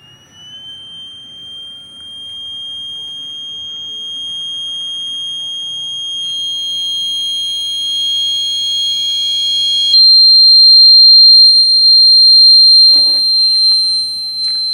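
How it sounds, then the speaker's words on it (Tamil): A buzzer alarm on an NTC thermistor temperature alarm circuit sounds as the sensor is heated, a loud piercing steady electronic tone that shifts pitch partway through and carries on alone for most of the stretch. "எல்இடி எரியுது, அலாரம் வருது."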